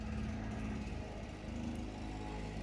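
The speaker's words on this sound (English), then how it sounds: "it's because my husband's just outside mowing the lawn" A lawn mower running outside drones steadily at moderate loudness for the whole stretch, with a constant low engine hum and no speech over it.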